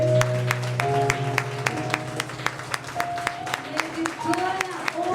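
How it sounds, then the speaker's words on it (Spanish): A church congregation claps during a communion service, a steady rhythm of sharp claps over sustained tones and a voice in the background. "Aplauso al Rey de Reyes."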